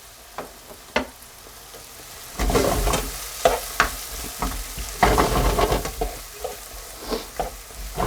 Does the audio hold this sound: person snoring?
no